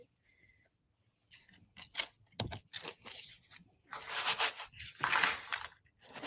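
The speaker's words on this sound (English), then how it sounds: "all my trays have shuffled up, so sorry about the noise" Jewellery trays holding gemstones are shuffled and rattled close by, making a run of irregular clattering, scraping bursts that grow louder toward the end, with no talking.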